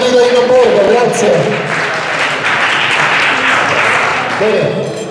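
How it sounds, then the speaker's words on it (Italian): Applause from a crowd at a ski race awards ceremony swells and holds for several seconds, with a voice speaking over the start and end. "Facciamo un applauso al sindaco di Larino Borgo"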